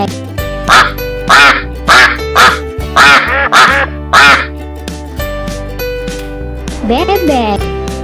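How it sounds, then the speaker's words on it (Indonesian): A toy duck gives a series of loud, close, rhythmic quacks, about six in a row, then a pause and a final squawk. "Bebek."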